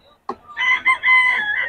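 A rooster at Bocaue crows once, close and loud: a sharp start, then a long wavering call held for over a second.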